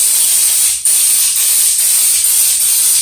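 A steady, loud spray hiss from a spray gun applying Raptor bed liner to a 1959 Chevy truck cab, running continuously with a couple of brief dips, no voices.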